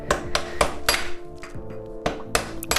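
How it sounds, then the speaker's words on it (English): Soft hammer knocking an axle bolt out of a 1987 Kawasaki ZX600A GPZ600R motorcycle wheel: a string of sharp close metallic blows, a few quick in a row, a pause, then more strikes. "I like to drive it through with a soft hammer and a mallet."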